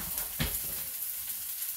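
Chicken tenders seasoned with salt and pepper sizzle faintly in a hot pot while being turned with tongs, a soft steady frying hiss with one brief louder rustle.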